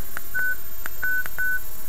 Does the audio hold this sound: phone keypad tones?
yes